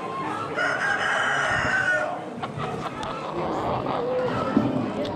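A rooster crows loudly and close by at an Amish animal auction, one long drawn-out call followed by clucking and other fowl amid a busy, noisy barn crowd.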